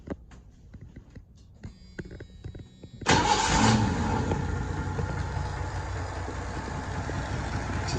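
A Mercury Zephyr engine cranks and catches at once, jumping from quiet shop background to a loud, steady idle that runs on close by.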